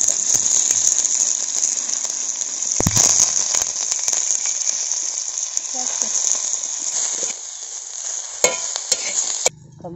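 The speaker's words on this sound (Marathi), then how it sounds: "आता तव्यात तेल घ्यायचं आणि अगोदर त्यात कांदा परतून घ्यायचा" Onions sizzling as they fry in oil on a griddle over a wood-fired stove, a loud, bright continuous crackle with stirring knocks that eases near the end, where a voice briefly speaks.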